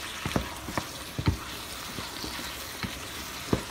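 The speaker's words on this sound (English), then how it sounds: "I'm going to stir a bit more" A spoon stirs thick shepherd's pie filling in a pan, making scattered scraping clicks and taps over a soft, continuous sizzle.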